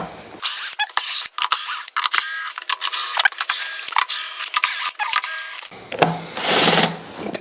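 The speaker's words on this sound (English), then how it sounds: "Now we need to unscrew all the screws, which are just regular. So let's just do that with a tool," Screws being unscrewed with a power tool on an electric unicycle during a teardown: repeated short whirring bursts with brief pauses, close and clear, then a longer hissing whir at the end.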